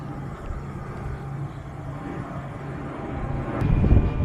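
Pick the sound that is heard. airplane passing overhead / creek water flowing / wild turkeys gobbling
airplane passing overhead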